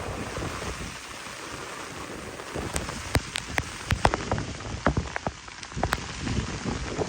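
Heavy rain pours steadily with gusty wind roaring underneath, and sharp drops spatter loudly on a nearby surface in irregular bursts.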